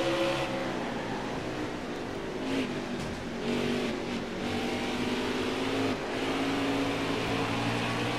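A NASCAR race car engine at Richmond in NASCAR Heat 4 drones steadily at high revs, its pitch rising and dipping slightly as the car works through the laps, loud and continuous without talk.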